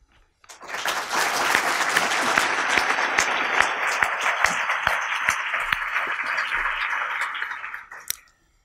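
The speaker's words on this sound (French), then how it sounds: "Une super équipe que je vous propose d'applaudir." An audience at a French summer university gathering applauds a team, clapping swelling in quickly, holding as a steady, fairly distant wash for several seconds, then fading out to silence.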